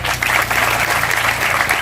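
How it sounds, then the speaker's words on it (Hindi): An audience claps for an award winner at an event in Bihar, producing a dense, continuous burst of applause that is loud and close and fills the whole short stretch. "सब लोग इसके लिए ताली बजाओ"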